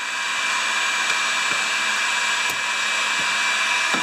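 Hot air blower heating a warped Briggs & Stratton Quantum primer assembly, a loud, steady rushing hiss running unbroken throughout with a few faint knocks underneath.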